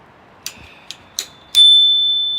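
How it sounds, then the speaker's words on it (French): A small handlebar bell on a Xiaomi M365 electric scooter rings four times, three short dings and then a final ring that lingers and slowly fades, close and clear with no talk over it. "Donc vous avez une petite sonnette."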